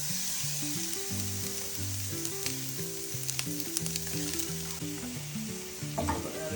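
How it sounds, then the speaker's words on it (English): Chopped onion goes into a hot frying pan for kung pao beef and crackles into a steady, close, bright sizzle that lasts the whole stretch, with tonal background music running underneath. "We're going to add our onion to the pan."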